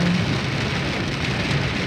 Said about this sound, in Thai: ฝนก็จะตก หนักมากเลยสงสัยจะเป็น พายุฤดูร้อนอะไรสักอย่าง